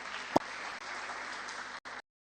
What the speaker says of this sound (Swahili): Makofi kwa tafadhali.